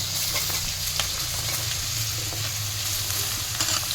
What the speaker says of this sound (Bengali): এইভাবে আমি একটু নাড়ছি